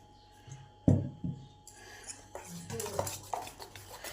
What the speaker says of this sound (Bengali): এবার এটাকে ভালো করে মিশিয়ে নেব।